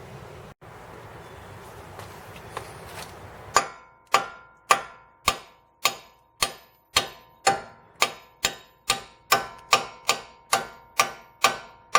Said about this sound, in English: just hit it with a hammer real hard